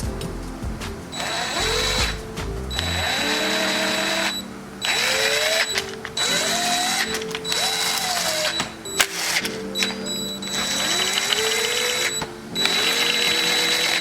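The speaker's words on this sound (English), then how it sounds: "Now I'm just going to run all these bolts down to where they're just barely beginning to seat." Bolts on the engine case cover of a Honda CR125 two-stroke motorcycle bottom end are run down with a power driver. Loud, close whirring bursts rise in pitch and stop one after another, with short pauses between.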